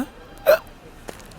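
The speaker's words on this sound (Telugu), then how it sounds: "ఎక్కిళ్ళు వస్తున్నాయిరా" A single sharp hiccup pops out close by, followed by a softer second catch a moment later, against a quiet background.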